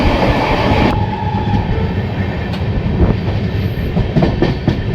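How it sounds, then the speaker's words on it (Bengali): A Howrah–Kalka Netaji Express running on LHB coaches rumbles along the rails as it approaches Bardhaman Junction in heavy rain, a steady loud roar with wheel clatter and a few sharp clicks, no voices. "ট্রেন তার first halt Bardhaman junction enter করছে।"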